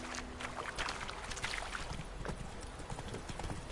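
The horse Roach's hooves clip-clop at a steady walking pace in The Witcher 3, faint and soft against light background ambience.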